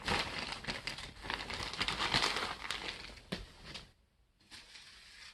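Tissue paper being handled and crinkled close by, a dense run of crackling rustles that pauses briefly near the end before starting again.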